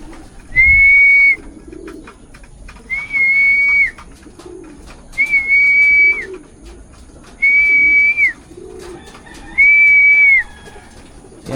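A small brown bird perched on a rooftop gives a repeated clear whistled call, five evenly spaced notes each lasting about a second, loud and close with quiet gaps between.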